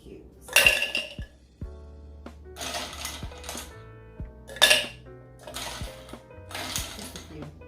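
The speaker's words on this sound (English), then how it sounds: "ice cubes." Ice cubes drop one at a time into a glass for a sparkling pineapple smoothie, each landing in a sharp bright clink and rattle, with four distinct bursts separated by quiet pauses.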